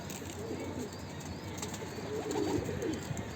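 Soft pigeon coos murmur faintly amid steady background hiss, with a few light flutters.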